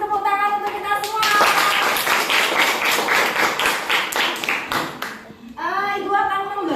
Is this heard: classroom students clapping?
yes